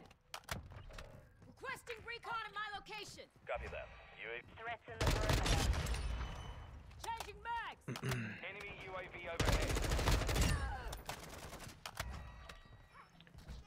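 Incendiary rounds fire in Modern Warfare 2, sounding as dense bursts of automatic gunshots mixed with other in-game effects. Someone talks throughout and the louder volleys rise over his voice.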